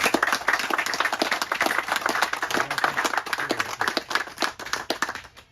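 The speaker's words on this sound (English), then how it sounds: "a big round of applause to all of you, please" A crowd applauds with dense, continuous clapping that holds steady for several seconds.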